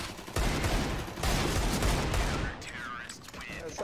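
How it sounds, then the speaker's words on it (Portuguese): Gunfire in the video game Counter-Strike: Global Offensive, heard as dense bursts of rapid shots that fill the first two and a half seconds, followed by quieter game sounds. "Ai, mata! Boa, Jotinha, que tiro!"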